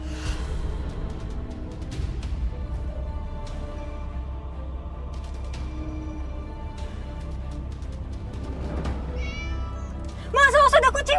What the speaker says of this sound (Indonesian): awas ada kucing